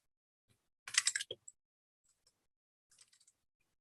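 Typing on a computer keyboard comes in two short bursts of quick, close clicks separated by a pause, with nothing else around them.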